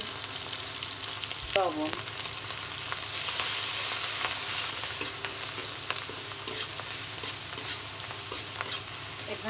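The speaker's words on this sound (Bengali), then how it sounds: "চিংড়ি মাছ দিয়ে দেবো তেলের উপরে" Shrimp fry in oil with a pinch of turmeric, giving a steady, soft sizzle with occasional stirring scrapes and clinks, while a voice speaks briefly over it.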